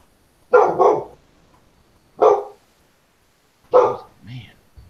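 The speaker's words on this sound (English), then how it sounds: "Hey, quit barking." A dog barks three times, loud and close, with gaps of about a second and a half between barks, the last followed by a short softer yip.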